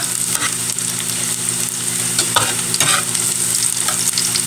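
Garlic sizzles loudly in oil in a small hot wok for a simple sautéed vegetable dish, a dense continuous frying hiss with stirring scrapes throughout.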